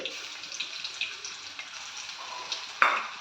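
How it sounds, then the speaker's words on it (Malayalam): Crushed garlic and ginger frying in hot coconut oil, a steady close sizzle with light stirring scrapes and one sharper clatter near the end, no talk. "വെളിച്ചെണ്ണ ഇച്ചിരി ചൂടായി വന്നിട്ടുണ്ട് അതിലേക്ക് ഇച്ചിരി വെളുത്തുള്ളി ഇഞ്ചി ചതച്ചത്"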